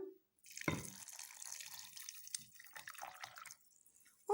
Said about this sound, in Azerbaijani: Badamların qabığını təmizləmək üçün üzərinə kaynar su əlavə edirəm.